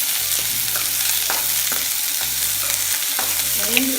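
Onions sauté in a pan for a Nagercoil-style onion pachadi, a loud continuous sizzle broken by repeated scraping strokes of a spoon stirring the pan, with no talking.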